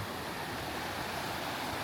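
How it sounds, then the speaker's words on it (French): A river flows through a jungle village in Thailand, its steady broadband rush of water continuous and fairly close, with no voices over it. "La rivière qui passe dans le village, je trouve ça vraiment stylé."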